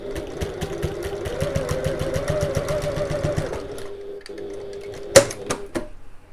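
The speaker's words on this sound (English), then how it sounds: "we're just going to stitch along the end using 1/4 inch seam allowance with our regular stitch length" A sewing machine runs a 1/4-inch seam across fabric for a bag at regular stitch length, whirring in a fast, even stitch rhythm before stopping, followed by a few loud clunks.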